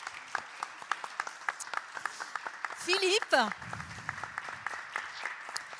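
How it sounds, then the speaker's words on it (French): Scattered clapping from a small audience at a French cultural entrepreneurship talk, quick uneven claps throughout with a brief burst of louder voices and noise in the middle, while someone speaks over the applause. "Je vous demande de les applaudir."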